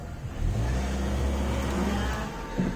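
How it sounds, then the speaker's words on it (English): A car engine hums and rumbles nearby as it parks on the street outside a house, rising slightly as it maneuvers, steady and fairly loud with no voices. "people parking outside the house to go to work at the high street"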